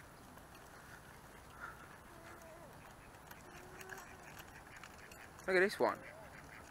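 Ducks quack in two loud, close bursts near the end, over steady outdoor park-pond background, with a person speaking briefly.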